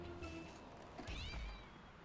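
A cat meows in the Simpsons: Hit and Run video game, a short game sound effect heard alone over a steady backdrop of game noise, with no talking.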